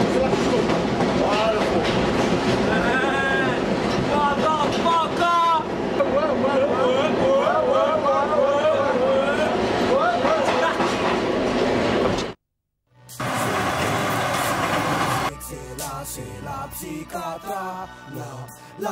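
A New York subway train rumbles and clatters loudly, with its wheels screeching in high wavering tones and people talking over the noise. After a brief cut, quieter clanking and voices follow.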